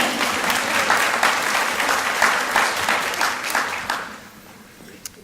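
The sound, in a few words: audience applause at nursing recognition ceremony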